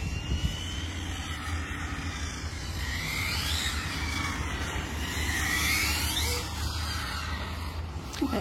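An Arrma Infraction 6s RC car drifts on warming tires, its electric drivetrain giving a continuous high whine that rises and falls with sweeping tire scrubs, steady and fairly close.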